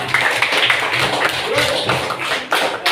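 In a classroom, students applaud a group, their clapping loud and close, with dense rapid hand claps and some thumping taps running steadily throughout.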